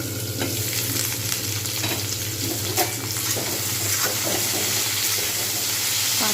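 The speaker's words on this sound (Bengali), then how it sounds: "আমি কিন্তু এগুলো ভালোভাবে ভাজতে থাকবো।" Cauliflower frying in oil in a pan, a loud continuous close sizzle with occasional stirring scrapes, steady throughout.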